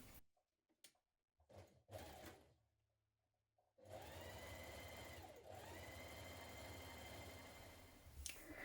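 An overlocker finishes the edge of a fabric pocket, first in a few short stop-start bursts and then in one long continuous run of fast, rattling stitching, recorded close and fairly loud.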